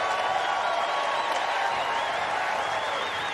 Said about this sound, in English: A great reception from the crowd here